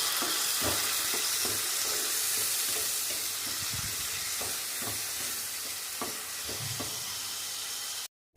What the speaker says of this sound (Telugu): ఈ మిశ్రమాన్ని బాగా వేయించుకుందాం.